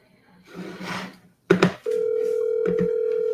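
A telephone rings out on an outgoing commercial real estate cold call: brief rustling and handling noise first, then a steady, loud ring-back tone that sustains to the end.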